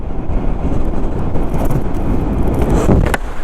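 A Honda SH Mode 125 fuel-injected scooter accelerates on a test drive, a steady loud engine hum with heavy wind rush over the microphone throughout.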